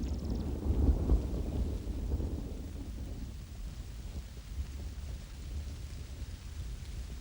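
Steady rain patters while a low rumble of thunder rolls early on, fading into continuous soft rainfall.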